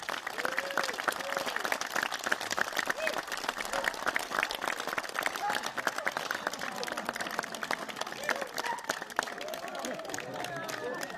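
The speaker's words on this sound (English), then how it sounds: "we owe them a huge round of applause" Audience applause at the 2015 Eagle Cap Swap Meet, a dense, steady patter of many hands clapping that holds for the whole stretch, with a few voices mixed in.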